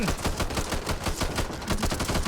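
Rapid automatic gunfire from Back 4 Blood, a zombie shooter, crackles in a dense, continuous burst of closely spaced shots, loud and up close with no talk.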